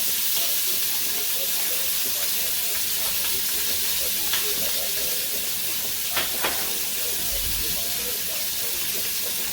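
Corn kernels frying in a little oil in a pan while a beef short rib dish is cooked, giving a steady close sizzle and hiss throughout, with a few brief clinks of utensils.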